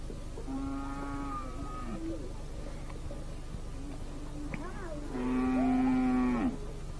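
Cattle in Antandroy country, near the dry forest and the Mandrare river, give two long, drawn-out moos, one early and a louder one near the end, over steady outdoor background noise.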